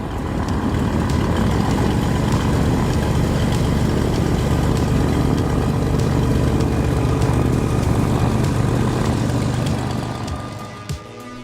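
A 2012 Piper PA46-350P Malibu Mirage, a single-engine propeller aircraft, heard from the cockpit as a loud, steady drone that eases off near the end.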